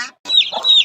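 A black hen clucks close by on a small farm also keeping ducks and goats, a short burst of agitated fowl calls with no talking.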